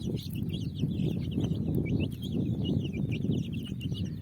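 Small chicks peck at wheat grain, their high, thin peeping running steadily throughout over a constant low rumble of background noise.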